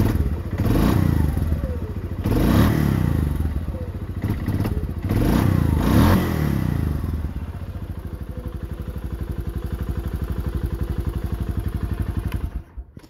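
Suzuki King Quad ATV engine cranking in bursts, then catching and settling into a steady, rhythmic idle nearby before cutting off abruptly.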